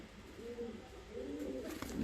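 Diyarbakır regional pigeons, a crested rose-patterned double white-tailed breed, coo softly in two low rolling phrases, close by with faint background hiss and no talk.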